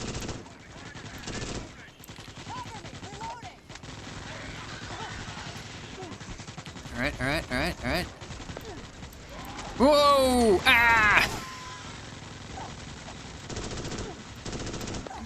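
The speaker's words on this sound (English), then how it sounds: "Just kind of jump through all the people shooting, it's fine." Rapid bursts of automatic gunfire from many players shooting at once in Starship Troopers: Extermination, dense and loud over a continuous battle din, with shouting and a player's voice talking through it.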